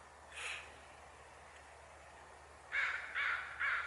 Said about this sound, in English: 6 crows.